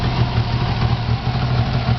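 A Suzuki Jimny LJ20 engine idles steadily right after starting, a close, even low-pitched rumble with a fast regular pulse and no voices over it.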